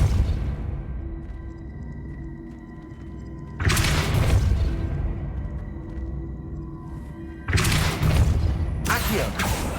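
Depulso force spell cast in the video game Hogwarts Legacy on PS5, heard as two loud sudden whooshing bursts that fade out slowly over low rumbling game ambience.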